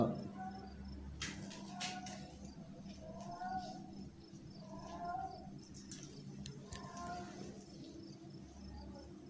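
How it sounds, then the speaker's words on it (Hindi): A cat lets out several low, drawn-out meows at intervals, over a steady hum of insects and night ambience. "बड़ी भारी आवाज़ में बिल्ली की आवाज़ थी"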